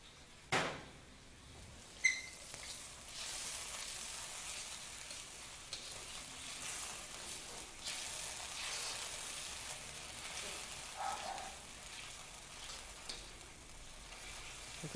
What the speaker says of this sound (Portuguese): eu vou colocar o shoyu para ele ir refogando no shoyu